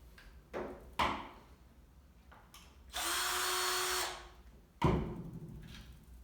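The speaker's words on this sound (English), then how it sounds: "with the help of screwdriver we remove front sight" A power screwdriver works on the front sight of a box-fed shotgun during a teardown, giving a short whirring burst in the middle, set between sharp clicks and knocks from handling, close up and quiet, with no speech.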